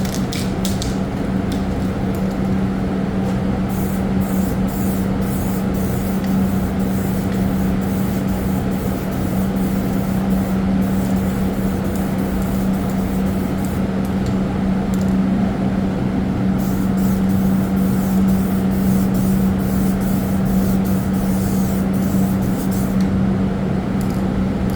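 An aerosol sprays a second clear coat onto a car headlight, a loud steady hiss with a faint mechanical hum underneath and occasional brief breaks, lasting the whole time without talk.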